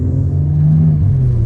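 A Camaro V6 with an X pipe and resonator delete drones with a deep, steady exhaust rumble, close and loud, in a brief burst with no voices.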